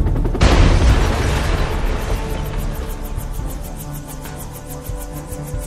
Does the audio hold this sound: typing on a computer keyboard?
no